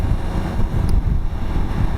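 Strong crosswind buffets the rider on a Ducati Multistrada V4 Rally motorcycle, a steady low roar of wind rushing over the helmet microphone throughout, loud and continuous with no talk.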